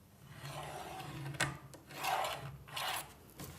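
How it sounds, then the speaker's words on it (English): An embossing tool scores a fold line across paper while a Madame Payraud mini book is being made, giving soft, close scraping strokes in a few short passes, faint and alone. "score across the bottom of the first page"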